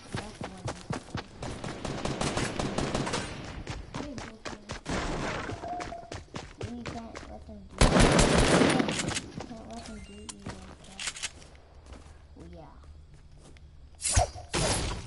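Semi-automatic sniper rifle fire in an online shooter game, with several loud cracks among bursts of other gunfire and impacts, mixed with excited players talking over the action.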